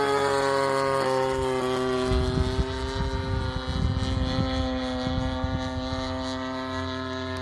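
A 30cc gas engine on a quarter-scale Hanger 9 Taylorcraft model airplane drones steadily at half throttle on a windy day, a moderate-pitched buzzing propeller tone holding level throughout, with no talking.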